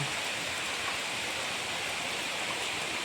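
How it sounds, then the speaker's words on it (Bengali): Heavy rain pours down steadily, a dense unbroken hiss with no distinct drops, continuous and fairly loud throughout with no voices. "যা বৃষ্টি হচ্ছে"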